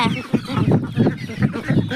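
Close, steady clucking from a group of chickens while they eat, repeated low pulsing calls in a loose rhythm throughout, fairly loud and without talk.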